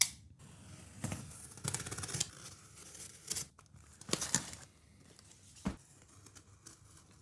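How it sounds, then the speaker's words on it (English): A well-packaged CZ P07 pistol build from Old Glory Guns & Ammo being unboxed: close, busy bursts of tearing, crinkling packaging and rustling cardboard, with a few sharper mechanical clicks and no talking. "Let's go ahead and unbox it."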